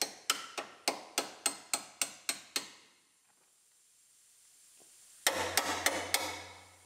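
Nine sharp metallic hammer blows in a steady rhythm drive a breaker into the damaged body structure of a Lexus IS250, a pause, then four more quick strikes over a low mechanical hum.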